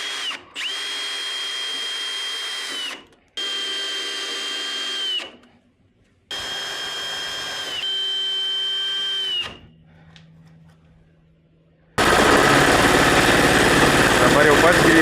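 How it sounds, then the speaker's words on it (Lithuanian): A power drill drives screws into straw panels in three close, loud bursts of steady whirring, each ending abruptly, followed by quiet and then a burst of broad noise. "Reikia dabar prisisukti varžtus ir atleisim."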